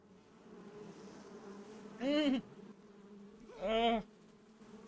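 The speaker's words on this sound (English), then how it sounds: "I know they're not bees, they're hornets" Hornets buzz in Metal Gear Solid 3: Snake Eater, two loud close droning swells about two seconds apart over a quieter insect hum, with no talk.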